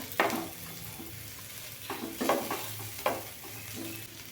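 Onion being stir-fried in a pan, the spatula scraping and tossing in a few distinct bursts over a soft sizzle, close and moderately quiet with no talking.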